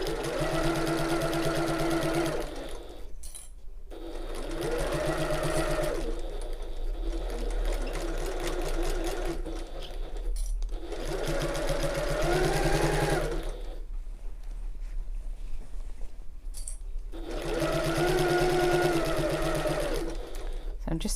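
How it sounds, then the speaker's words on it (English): A sewing machine runs steadily around the top of a tote bag, its fast rhythmic stitching droning nearby and continuously while a person talks over it at intervals. "I'm just sewing around the entire top"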